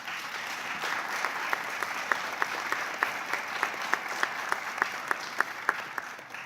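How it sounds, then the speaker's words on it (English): A small group in a committee hearing room claps for a witness, giving evenly spaced, crisp claps in a steady rhythm, fairly soft and distant, with no one speaking over them. "we should give her an applause"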